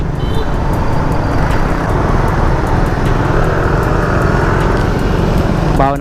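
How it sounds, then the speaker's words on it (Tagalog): Steady broadband road traffic roar surrounds a Rusi Raider 150 carburetor motorcycle on a night ride between Bacoor and Dasmariñas, Cavite, with engine and wind noise constant throughout and a brief rising whine near the end. "Traffic na naman."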